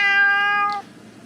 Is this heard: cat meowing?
yes